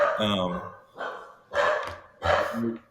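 Several nearby dogs bark in four loud, evenly spaced bursts, each a cluster of sharp woofs separated by brief pauses.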